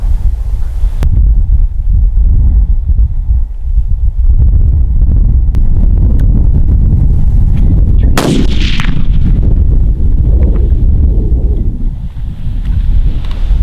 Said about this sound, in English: I didn't know you were going to shoot. You rolled him.